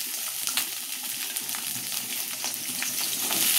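Chicken and potatoes frying in a pan with onions and papaya, giving a steady close sizzle with faint stirring scrapes throughout, no voices.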